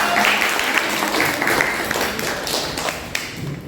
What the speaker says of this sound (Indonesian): tepuk tangan kagem kelompok kalih